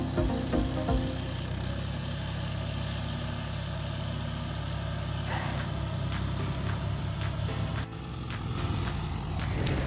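A John Deere 5045D four-wheel-drive tractor with a three-cylinder engine runs at a steady, loud, close idle, low rumbling throughout with a brief dip near the end.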